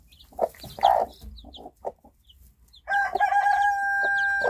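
A restless hen in a nest with newly hatched chicks gives close, irregular clucks and short calls, followed by a sustained crowing-like cry that trails off toward the end, with no speech.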